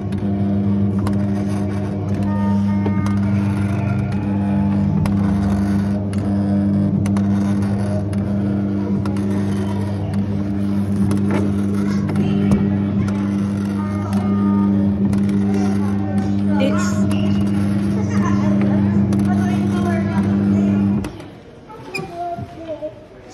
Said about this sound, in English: That was a Zap car kiddie ride by Zamperla, refurbished by Jolly Roger